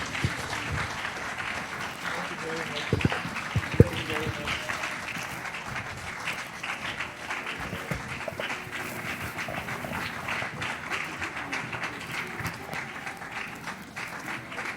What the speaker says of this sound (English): Let's keep clapping until they leave the podium.